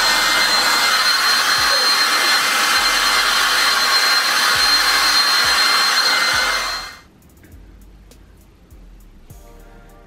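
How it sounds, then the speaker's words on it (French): A hair dryer drying hair blows with a loud, steady whooshing hum for about seven seconds, then shuts off, leaving faint handling noises. "Donc je vais sécher les cheveux et on voit tout ça ensemble."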